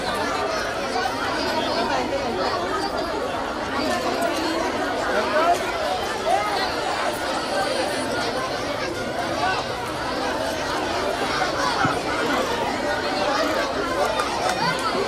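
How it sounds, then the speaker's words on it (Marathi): A noisy crowd of school students chatters in a corridor at a school function, a dense, constant babble of many overlapping voices filling the space at steady volume throughout. "खूप गोंधळ चालू आहे"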